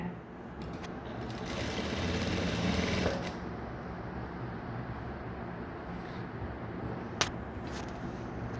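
A sewing machine stitches the back neck of a blouse, a fast rattling run of stitches for about three seconds, then it stops and the room goes quieter with a sharp click later.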